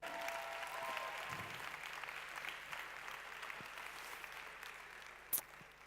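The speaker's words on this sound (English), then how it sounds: "Let's give that guy a round of applause again" An audience at a success-tips talk applauds a man backstage, a steady wash of clapping heard from a distance that holds evenly and fades slightly, with one sharp knock near the end.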